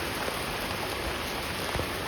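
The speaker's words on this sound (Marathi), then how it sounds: "अचानक एवढा पाऊस कसं काय मलाच काय कळलं नाही." Heavy rain pours down outdoors in a steady, dense hiss of drops hitting the surfaces close by. It is continuous and even, with no speech.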